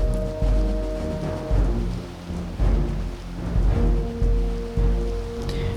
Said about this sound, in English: This was a nice rain effect too.